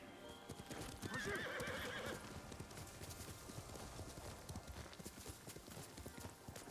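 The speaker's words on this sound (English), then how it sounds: "That's my horse." Horse hooves in the video game Ghost of Tsushima: Director's Cut clip-clop steadily at a walking pace, with a whinny early on, then the hoofbeats continue alone.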